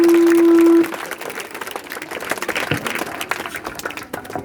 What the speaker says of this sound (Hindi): इनका इस्तकबाल तालियों से